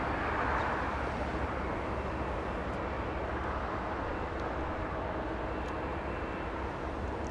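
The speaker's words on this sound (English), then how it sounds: "Oh, we have the A380." An Airbus A380 airliner at Los Angeles International Airport produces a steady, broad jet roar that holds at a constant level throughout, heard from a distance with no talking.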